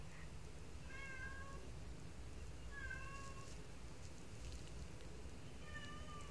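A small cat meows in three short, repeated calls spaced a couple of seconds apart, moderately close, over a steady low background hum with no talking.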